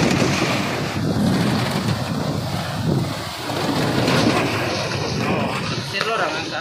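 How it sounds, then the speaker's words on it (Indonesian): Stormy sea waves and gusting wind batter a tuna fishing boat in a storm, a loud, continuous roar of rushing water and wind buffeting with surging swells. "cuaca saat ini sangat-sangat tidak bersahabat. Ombak sekali ya."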